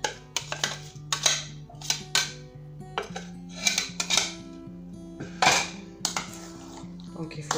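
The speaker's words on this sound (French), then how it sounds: "Donc il faut bien mélanger" A utensil stirs chopped pears into cake batter in a bowl, scraping and clinking against the sides. The strokes are close and repeat irregularly, and a low steady tone runs underneath.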